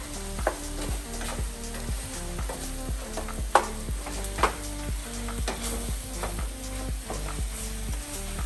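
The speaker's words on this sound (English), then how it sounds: "Okay, give that all a good stir." A quinoa bowl mixture seasoned with black pepper is stirred in a hot pan, with a steady sizzle under rhythmic scraping and occasional sharp clacks of a utensil, close and continuous.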